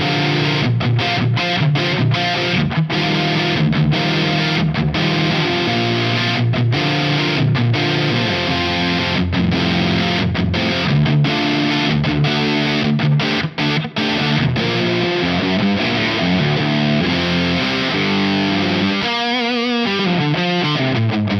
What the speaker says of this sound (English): let's kick on the distortion so you can hear that going from the overdrive to distortion.